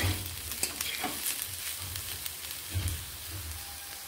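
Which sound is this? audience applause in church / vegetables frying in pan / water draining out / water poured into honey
vegetables frying in pan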